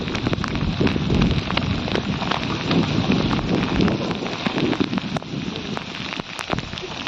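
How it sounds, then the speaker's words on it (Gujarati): Steady rain pours down onto a hard surface on a farm during cotton sowing, a dense, continuous patter with sharper drops ticking through it, loud and close. "આવી ગયો વરસાદ, ભાગો"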